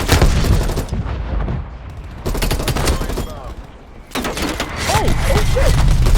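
Video game gunfire from PUBG Mobile, loud bursts of rapid shots and booming impacts in dense waves with brief lulls between them, close and chaotic, with a voice talking over parts of it.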